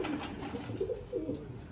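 Pigeon coos from a pair of racing pigeons bred for long flights, soft repeated low hoots in a steady rhythm, close but fairly quiet against a faint background.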